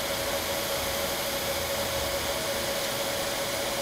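A laser cutter cutting a part for a model airplane in the area where the motor mounts, giving a steady, loud broadband hiss and whir with a constant tone, continuous throughout with no talking.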